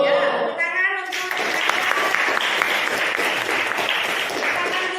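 Classroom of students clapping together after a maths answer, a brief voice first, then a burst of brisk, steady applause from the whole class.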